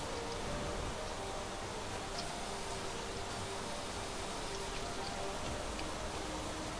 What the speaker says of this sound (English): Raining down on here.